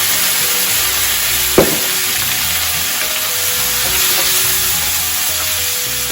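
White wine poured into a hot pan of onion and garlic gives a loud, continuous hissing sizzle heard up close, with one quick knock early on and no voices.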